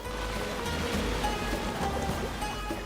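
Monsoon rain pours steadily in a dense, even wash of falling water, close and continuous, without any voices.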